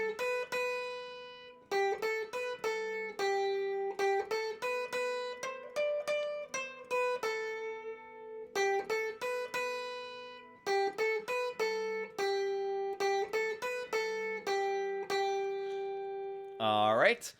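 Guitar plays a solo, a clean run of quick picked single notes in bursts separated by short gaps, ending with a bent note, close and alone.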